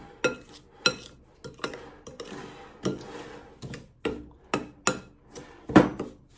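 A utensil clinks and scrapes against a bowl while homemade body scrub with oil is stirred, sharp irregular taps about once or twice a second, close and clear with no talking.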